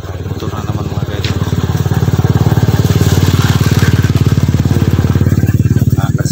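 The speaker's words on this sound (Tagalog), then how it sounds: "Motor na naman mga guys." A motorcycle passes along a roadside beside a house, its engine a loud, steady pulsing drone that grows fuller midway and holds close throughout with no talk.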